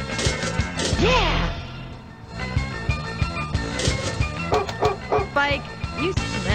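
Dog barking and yipping in a pinball video game, a few bright synthesized barks among game sound effects, music and clatter, with someone talking over the play.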